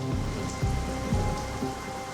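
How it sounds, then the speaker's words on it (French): Heavy rain pours inside a house, a dense, steady roar of water with a few dull low thuds of drops hitting surfaces, loud and unbroken throughout. "il pleut des cordes à l'intérieur de sa maison"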